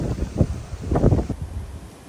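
Gusty wind blowing across a backyard pool on a hot summer day, a loud close rushing buffet on the microphone that swells and then eases, with no voices.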